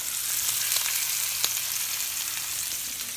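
Sous vide steaks sear in a hot cast iron pan with a steady, dense sizzle and crackle throughout, with a few brief pops and no one talking.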